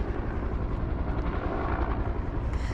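A rescue helicopter's rotor thumps and engine roars steadily and loudly at Annette Lake, close by and continuous, with no voices.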